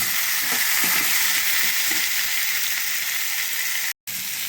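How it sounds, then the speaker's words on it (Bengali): Indian gooseberries (amla) frying in hot oil on a full gas flame, a steady close sizzle with a few soft stirring scrapes, briefly cut out near the end. "এই আমলকিগুলো পুরোপুরি সব কটাই তেলের মধ্যে ঢেলে দিলাম। এবার খানিকটা নাড়াবো"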